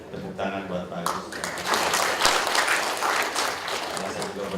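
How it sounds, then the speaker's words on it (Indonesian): Audience applause breaks out at a procurement workshop in Bandung, a dense wash of clapping that builds after the first second and holds steady, with voices mixed in throughout. "Tepuk tangan buat Pak Agus."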